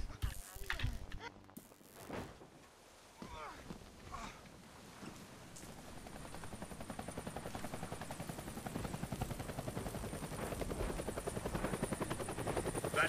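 A helicopter in the video game Deadlight starts up after some scattered thumps and clatter, its rotor chop swelling into a dense, steady, loud pulse that holds to the end.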